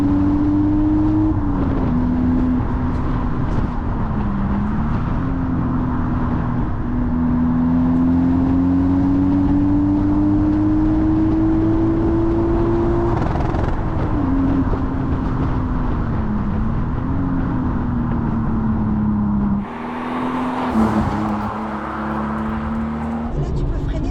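A Toyota Supra MK4 engine accelerates and revs while driving on winding roads, its tone rising and falling through gear changes, with a sharper surge near the end and people talking in the cabin over it.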